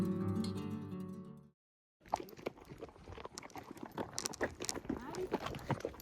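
A mule walking on a road-trip stop on the US west coast, hooves clip-clopping in a steady rhythm close by, mixed with people talking over it after a brief silence.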